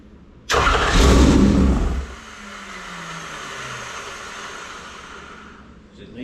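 A 604 crate engine fires up for the first time: a short cranking burst catches into a loud roar, then settles to a steady, quieter idle lasting several seconds.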